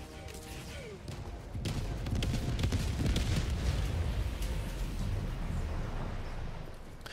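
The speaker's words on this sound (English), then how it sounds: "I kept hearing gunfire, but it's actually just AA guns shooting up." Anti-aircraft guns fire upward in the video game Helldivers 2, a dense rumbling barrage of overlapping booms and crackles that builds after the first second and holds steady, with no talk.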